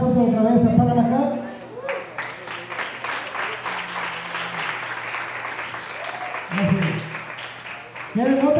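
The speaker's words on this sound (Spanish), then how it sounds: "un aplauso otra vez a Panamá Cup" An audience claps for Panamá Cup at the close of a live interview event, a sustained ripple of crowd applause heard between stretches of someone talking and music-like tones.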